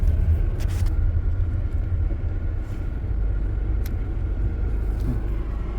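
A Chevy Malibu engine rumbles steadily from inside the cabin with road noise, the drone easing slightly as the car slows after the brake is applied; no one speaks.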